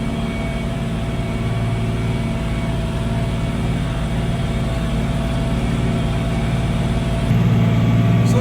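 A tractor engine drones steadily while pulling a disc through a sandy field during fall tillage. The close, loud hum runs unbroken, with a slight rise in level near the end.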